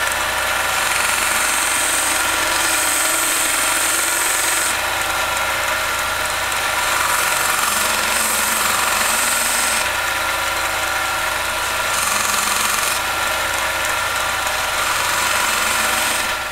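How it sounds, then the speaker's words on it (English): A 1-inch belt sander works the sides of a Purpleheart wood blank, a loud steady motor drone with gritty abrasive hiss that rises and eases in pressure several times as the wood is pressed and lifted, close up, no talking. "now I'm going to use a 1-inch belt sander to clean up these sides right here"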